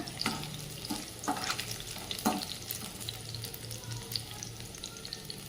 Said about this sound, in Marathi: लसूण चांगला फ्राय होऊ द्यायचा